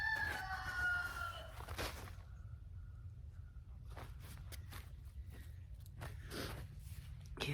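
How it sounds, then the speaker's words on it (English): A rooster crows once, fairly far off, followed by scattered clicks and steps over a low steady rumble. "You hear that rooster?"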